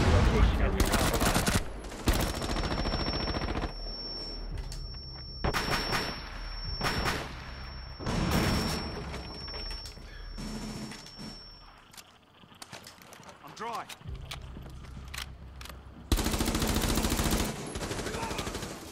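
Gunfire in the Battlefield 4 video game: loud repeated bursts of automatic weapon fire and single shots, close and dense, with a steady high tone and quieter gaps between volleys.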